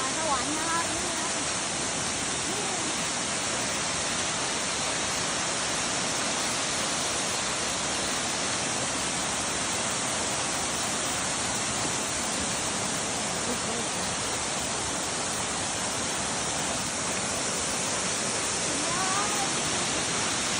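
Phu Pha Sawan waterfall roars as a steady, loud broadband rush of falling water that fills the whole stretch without a break, with faint voices mixed into the noise.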